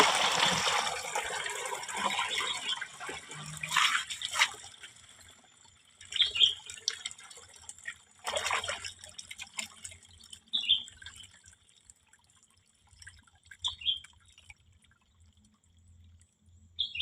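Liquid organic fertilizer is strained, beginning with a steady pour of liquid and then thinning into scattered drips and small splashes, close and fairly loud, with quiet gaps between the drops.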